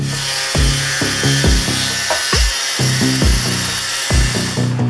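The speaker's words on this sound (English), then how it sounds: "cutting it with the grinding wheel" A grinding wheel cuts sheet metal for a Project253 drift El Camino frame build, giving a loud, steady high hiss broken by repeated rhythmic bursts of strain as the wheel bites and lifts across the workpiece.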